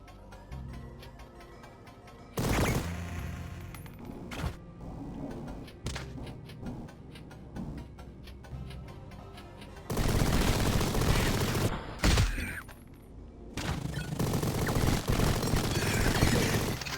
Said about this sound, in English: Machine gun! Machine gun! Machine gun.